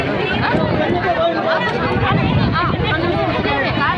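A dense crowd of women at a roadways bus stand fills the air with continuous overlapping chatter and babble, loud and close, with no single voice standing out.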